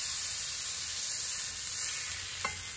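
A burger patty is smashed onto a hot Kamado Joe griddle, giving a loud, steady sizzle that runs throughout, with a brief scrape near the end.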